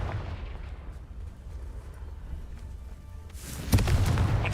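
A Confringo fire blast spell cast in the Hogwarts Legacy video game, a sudden explosive burst near the end rising out of a low, rumbling game ambience.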